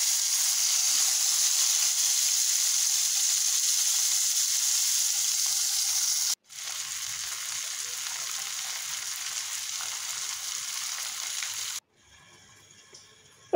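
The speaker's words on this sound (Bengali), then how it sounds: "এখন মাছগুলি আমি ভেজে নিব।" Bheda fish frying in mustard oil in a frying pan: a loud, dense, continuous sizzle and crackle, broken by two brief cuts, then dropping much quieter near the end.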